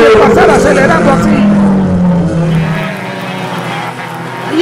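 Race cars accelerating past on a wet circuit during a final in Panama, a loud engine roar rising and sweeping by with spray hiss, under continuous excited commentary.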